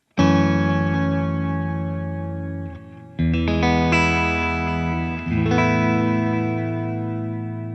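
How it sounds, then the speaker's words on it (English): An electric guitar played through a Fender Tone Master Pro with a stereo space delay rings out three strummed chords, each sustaining and slowly fading as echoing repeats trail behind it, with no talking. "so let's use the stereo space delay"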